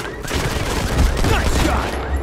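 A rapid burst of automatic gunfire from the mobile shooter Modern Combat 5, played on PC in a downtown safe-house map, crackles continuously for a couple of seconds.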